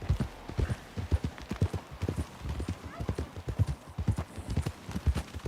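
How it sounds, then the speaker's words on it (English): Horse hooves clip-clop at a steady walking rhythm in Red Dead Redemption 2, several horses close by on a forest path, each footfall crisp and distinct over a quiet background. "We won't get the horses down this path."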